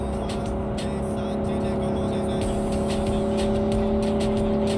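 Car driving in Cyberpunk 2077, a steady engine drone with a constant low hum running through the whole stretch, fairly loud and close, with faint crackles and bumps on top and no talking.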